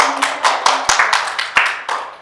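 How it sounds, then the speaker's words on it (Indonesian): A small classroom group claps briefly, a handful of sharp, uneven hand claps close by that fade after a couple of seconds. "Silakan beri tepuk tangan buat yang"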